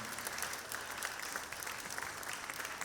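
An audience at a Sardinian choral concert for the Sant'Efisio celebration gives the Terramea choir dense, steady applause, loud and continuous throughout.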